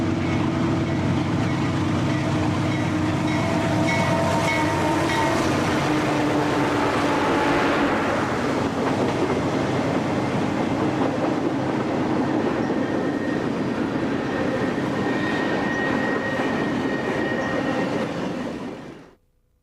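A train hauled by a 4,000 horsepower C40-8 diesel locomotive rumbles steadily past along the Hudson River near Newburgh, New York, loud and close with wheel clatter and a swelling roar before cutting off.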